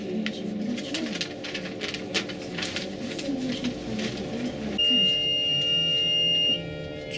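A steady electronic beep tone sounds for a couple of seconds at a funicular railway in Porto, Portugal, over a bed of pigeons cooing nearby and ambient outdoor noise.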